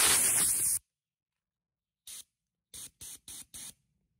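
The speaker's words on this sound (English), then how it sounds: "Let's hit this thing with the air hose." An air hose blasts borax powder off a deer skull: one long loud hissing burst, then after a pause a short puff and four quick sharp bursts in a row, close and alone.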